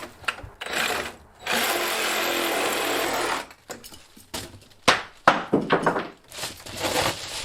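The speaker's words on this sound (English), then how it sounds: "I just have to cut off a little chunk of wood that's sticking out" Power saw cutting off a small protruding chunk of wood during ceiling framing work: a sustained buzzing cut of a few seconds, then short bursts and clunks as the piece comes free, fairly close.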